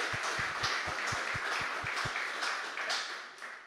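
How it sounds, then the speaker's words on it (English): A conference audience applauds its sponsors: close, rhythmic claps at the start over a broad wash of many hands, fading away as the clapping dies down. "So a huge round of applause to our sponsors"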